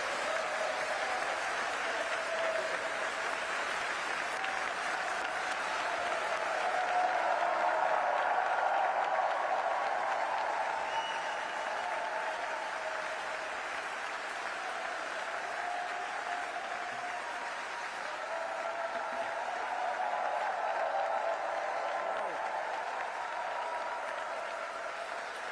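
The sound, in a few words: audience applause for President Biden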